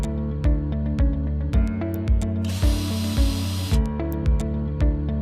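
A power drill with a Phillips driver bit spins in short repeated bursts, driving screws into a ready-to-assemble base cabinet, each pulse ending with a sharp knock, and a longer hissing whir partway through.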